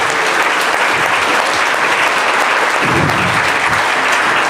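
An audience at a business networking event breaks into loud, dense applause, continuous clapping that fills the room evenly for several seconds, with faint voices underneath.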